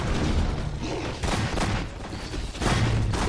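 Gunfire and explosive bursts in Half-Life 2: Episode One, loud and dense, with repeated broadband blasts and rumbling booms over about three seconds.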